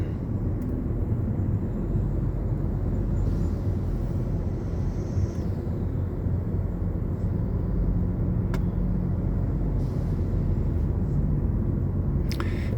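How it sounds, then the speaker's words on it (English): A commercial vehicle passes close by in the left lane on the N3 highway descending Town Hill, a loud continuous road roar and rumble with wind buffeting, heard from inside a moving vehicle. "You will see there's a commercial vehicle that's going to pass me by now in his lane on the left hand side."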